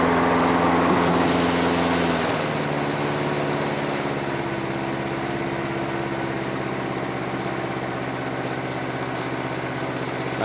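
Old Homelite lawnmower running after being started, its small engine settling from a higher roar into a steady, buzzing idle that holds on, loud and close, with no voices.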